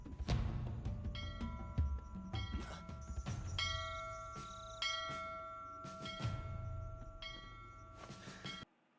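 Bell ringing for sleep in the anime Attack on Titan: repeated clear metallic bell strikes with long ringing tones that overlap and sustain, over a low rumble, fading out at the end.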